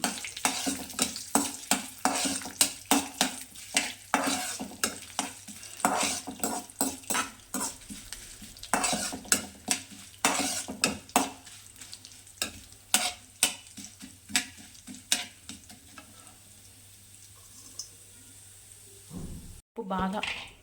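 Mustard seeds, dried red chillies and curry leaves tempering in hot oil in a kadai for beans curry: a sizzling base broken by frequent sharp scrapes and clinks of a spoon stirring against the pan, with a brief knock near the end.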